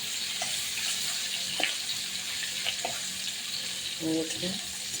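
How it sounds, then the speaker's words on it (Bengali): Salted koi fish frying in hot oil gives a steady, fairly soft sizzle throughout, with a few faint clinks and a brief spatter near the end. "তেল গরম হয়ে গেছে। এবার আমি একটু তেলটাকে নাড়িয়ে চাড়িয়ে আমি কই মাছ দিয়ে দেবো।"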